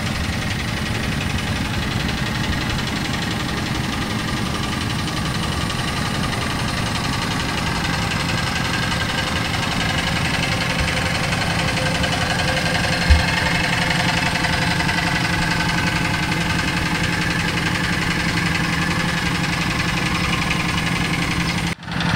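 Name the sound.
farm tractor engine running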